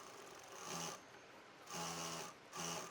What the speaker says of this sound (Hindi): तो जो हमने चोली को अटैच करने की सिलाई लगाई थी उसी के ऊपर हम ये सिलाई लगा रहे हैं।